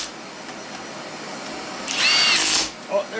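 An electric impact wrench works on a GM 8.25 IFS front differential during a rebuild and regear, giving a loud whirring burst of under a second near the end after quieter shop background.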